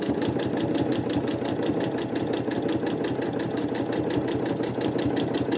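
A sewing machine running continuously while quilting feather designs, a fast even mechanical chatter with a low motor hum, steady and close for the whole stretch, with no voices.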